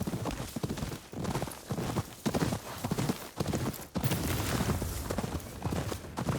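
Horse hooves clip-clop at a steady walking rhythm in the video game Ghost of Yotei, close and distinct, with a faint whinny in the background.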